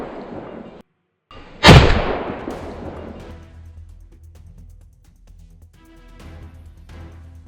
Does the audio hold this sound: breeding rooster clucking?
no